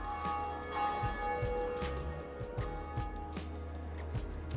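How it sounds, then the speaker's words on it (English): Bell tolling in Dark Souls, a few deep resonant strikes with lingering hum over game ambience, moderately loud and fairly close. "We ring the bell."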